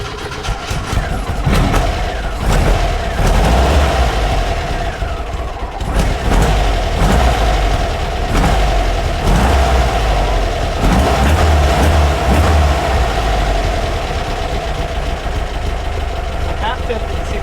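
A 1967 Volkswagen Fastback engine idles with a steady, loud low rumble that stays up close throughout, broken by occasional clunks and knocks, while people talk over it.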